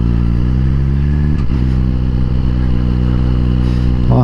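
A Suzuki GSX-R1000R sport motorcycle rolls slowly over gravel, its engine a steady, loud low drone close by, with faint crunch and clatter under it and no speech.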